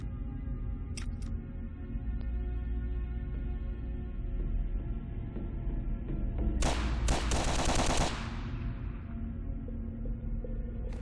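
A Heckler & Koch G11 prototype rifle fires caseless ammunition in a video game, with a short, very rapid burst of loud shots ringing out midway over a steady low hum and faint ticks.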